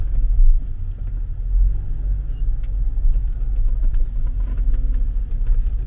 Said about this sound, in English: I just need to turn my car around right quick.